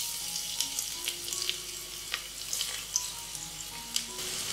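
Crushed garlic and ginger sizzling with whole spices in hot oil, a steady close frying crackle with scattered pops and occasional stirring, no voices.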